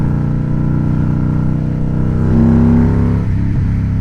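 A bobber motorcycle's engine runs close by in a steady, loud rumble with pulsing harmonics, briefly rising in pitch as it revs before settling back.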